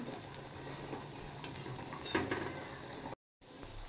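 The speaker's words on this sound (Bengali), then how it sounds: "এবার আমি বড়াগুলো ভেজে নেব।" Fritters sizzle steadily in hot oil at a moderate level, with a few stirring scrapes and clinks partway through and a brief cut to silence near the end.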